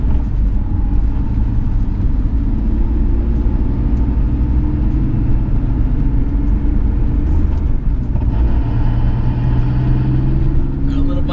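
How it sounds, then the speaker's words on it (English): A BMW E46 on Revshift engine and transmission mounts cruises at freeway speed, giving a steady, loud low road-and-engine rumble with constant tire roar and no break in level throughout. "we are cruising at freeway speeds, and there's maybe a little bit more noise"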